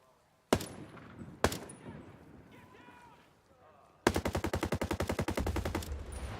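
Full-auto gunfire in Ghost Recon Breakpoint opens with two separate loud single shots. After a short pause, a sustained rapid burst of evenly spaced, loud shots fills the rest of the clip.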